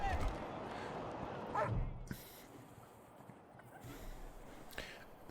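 A dog in the video game Wasteland 3 gives faint, brief whimpers and yips against a quiet background, with a voice talking.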